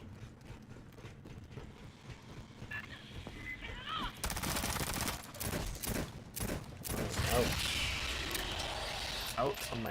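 SMG fire in the co-op shooter Aliens: Fireteam Elite, rapid bursts of automatic fire starting midway over background combat noise, with players talking.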